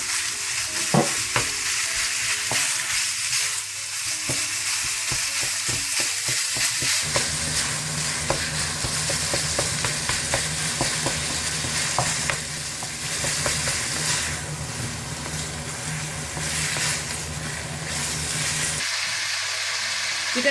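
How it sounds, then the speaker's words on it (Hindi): Chicken fries in a pan with a steady, loud sizzle and hiss that runs throughout, dotted with occasional clinks and scrapes from stirring. "थोड़ा सा भूनने के बाद आप इसमें चिकन डाल दें"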